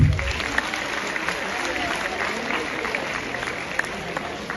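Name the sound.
audience round of applause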